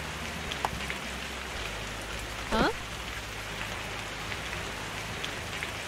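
Steady rain falls in the island survival game Lunacy: My Tribe, a dense even hiss of drops on surfaces with a brief chirpy game sound partway through and no voice.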